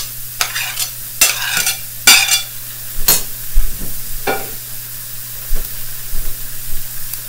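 Zucchini and shrimp being stirred in a pot, with repeated scraping strokes and a steady low sizzle underneath, close and fairly loud.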